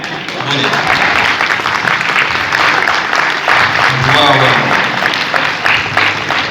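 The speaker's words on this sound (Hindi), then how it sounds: "अरे वाह, ताली का प्रोग्राम है" Sustained audience applause fills the room, steady and fairly loud, with a voice briefly audible underneath near the middle.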